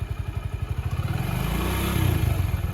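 A motorcycle ridden by a learner rider pulls away and picks up speed, its engine pulsing in a steady, quickening rhythm that rises into a louder, smoother drone, close by and with no voices.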